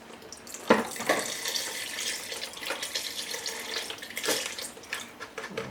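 Water runs steadily from a faucet, a continuous splashing stream with a few louder gushes and splatters, no voices.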